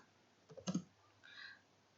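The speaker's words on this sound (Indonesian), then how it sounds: "Jadi, saya akan mengetik di sini" Typing on a computer keyboard while entering text for an anti-drug pamphlet: a short quiet cluster of a few key clicks, close and isolated, followed by a faint softer tone.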